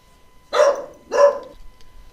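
A dog gives two loud, close barks about half a second apart in an otherwise quiet room, with no other sounds around them.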